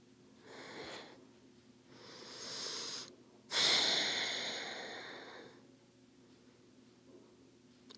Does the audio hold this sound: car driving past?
no